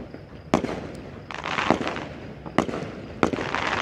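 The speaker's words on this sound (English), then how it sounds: "Oh, those are cool fireworks" Several Canada Day firework explosions pop and crackle in quick succession, each sharp bang followed by sizzling sparkle, heard from a moderate distance.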